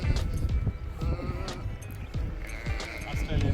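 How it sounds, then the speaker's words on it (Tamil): A flock of sheep on an Australian sheep farm bleats in scattered overlapping calls, mixed with rustling and movement noise close by. "ஆஸ்திரேலியாவில் ஆட்டுக்கூட்டம்."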